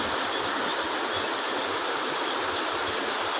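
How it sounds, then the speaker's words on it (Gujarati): Heavy monsoon rain pours down at night in Deesa and Vadaval, Gujarat, a steady dense roar of water that stays loud and unbroken throughout, with no voices. "સખત વરસાદ પડી રહ્યો છે મિત્રો"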